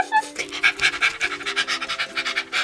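A dog pants in rapid, steady breaths close by, with soft scratchy movement through the short stretch, at a playful beach setup built indoors for toys.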